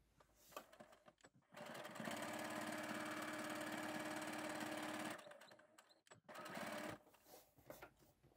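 Sewing machine running a tight straight stitch on durable denim, a steady loud mechanical whir of about three seconds that starts and stops, with a shorter burst afterward and quiet handling noise between.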